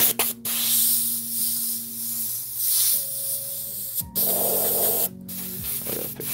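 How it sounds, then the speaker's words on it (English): An airbrush sprays paint in close, breathy hissing bursts that stop and restart a few times, with a faint steady hum underneath and no speech. "I gotta fix this airbrush."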